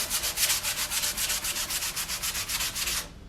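Rhythmic back-and-forth sanding scrapes against a BMW E36 part, about a dozen even strokes, close and loud, ending abruptly.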